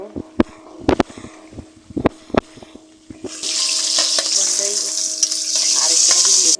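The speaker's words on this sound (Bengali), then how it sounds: "আমি মাছের মাথাটাকে হালকা ভেজে নিয়েছি এখন তুলে নেব" Catla fish head frying in hot oil, a steady bright sizzle that swells up and holds loud through the second half, preceded by a few sharp clinks and knocks from a utensil against the pan.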